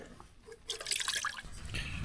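Washing-up liquid squeezed from a squeezy bottle into water at a windy campsite, a short liquid squirt and dribble, close and brief, over blustery wind noise.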